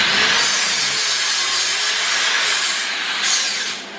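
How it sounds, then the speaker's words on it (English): A flat-disc body work sander with sandpaper smooths welds on a metal furniture frame, a steady, loud abrasive whir that holds evenly before easing off at the end. "Thing you want to do is smooth out the welds, and I'm using a sandpapered flat disc body work sander"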